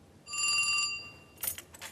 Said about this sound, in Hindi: फ़ोन बहुत ज़रूरी है सुनना